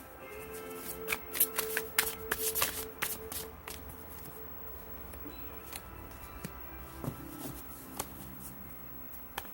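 A deck of tarot cards is shuffled and handled close up, giving dense bursts of riffling and flicking slaps followed by softer sliding and tapping, with no talking.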